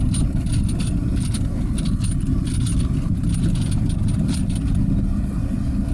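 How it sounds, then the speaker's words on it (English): A Jeep rolls along a road shoulder over bumps, with steady loud road and engine rumble, faint rattles and light clunks scattered through, heard from inside the cabin without talk. "drive down the shoulder here a little bit, hit these bumps"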